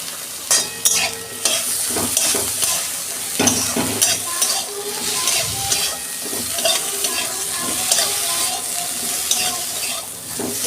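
Eggplant pieces seasoned with salt and turmeric fry in hot oil in a pan while being stirred. A steady sizzle runs throughout, with scraping and clinking from the stirring utensil, and no one speaks.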